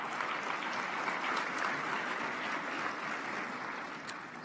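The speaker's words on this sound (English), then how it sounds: "Give yourselves a round of applause." Audience applause at the Smart Africa Women Summit on digital inclusion, sustained broad clapping from a large crowd that continues evenly and eases off only slightly at the end.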